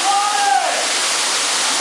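Waterfall at Eaton Canyon, a loud continuous broadband rush of falling water, with a brief whistling tone riding over it at the start.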